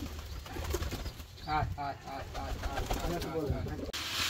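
Giribaz pigeons coo at a Rajshahi pigeon farm, a run of soft, rhythmic, repeated coos with faint voices in the background.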